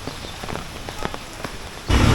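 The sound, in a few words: rain falling on a street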